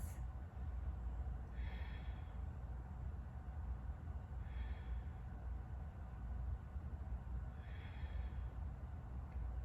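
During a yoga side body stretch, three slow, soft breaths come evenly spaced a few seconds apart, faint and close, over a low, steady background hum.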